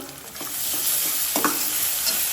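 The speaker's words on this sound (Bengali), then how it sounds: "পেঁয়াজের সাথে একটু ভাজা ভাজা করে নিচ্ছি" Onions frying with garlic and ginger paste, a soft steady sizzle with a few light scrapes of stirring in the pan, fairly quiet and without talk.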